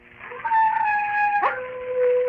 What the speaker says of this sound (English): There are wild dogs on the moor. Sometimes they bay and howl.